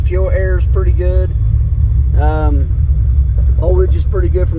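A car engine tuned with a Quarterhorse tool idles with a steady, loud low rumble throughout, running about 13.5–14 degrees of timing. Someone talks over it most of the time.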